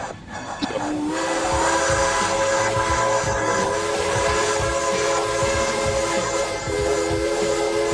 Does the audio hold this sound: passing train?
yes